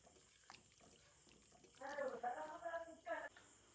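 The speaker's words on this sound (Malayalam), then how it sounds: "നമുക്ക് അതിനാവശ്യമായ വെള്ളം ഒഴിച്ചു കൊടുക്കാം." Water poured from a vessel into a pot of prawn curry with roasted ground coconut, a brief splashing pour of about a second and a half, fairly close, after quiet kitchen sounds.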